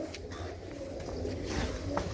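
Pigeons in a loft in Tarn Taran give a soft, steady cooing murmur, low and continuous with faint rustling, throughout the short stretch.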